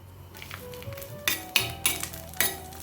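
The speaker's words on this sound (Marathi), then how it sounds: "आणि 1 मिनिटभर हे फ्राय करून घेऊया" Green chillies fry in a pan with a soft sizzle, joined by several sharp clinks of a utensil against the metal, close and fairly quiet.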